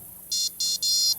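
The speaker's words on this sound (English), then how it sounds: "And you notice we've put the line and the rod in this thing, and this is actually an alarm." A carp fishing bite alarm mounted on a rod pod beside a lake sounds three loud electronic beeps in quick succession, the tones close and clear with a short gap between each.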